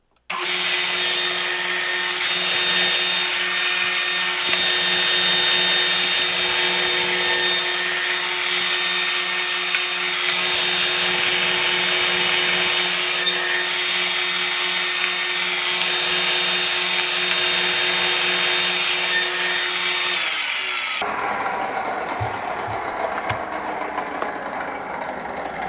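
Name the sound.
saw cutting wood with a sled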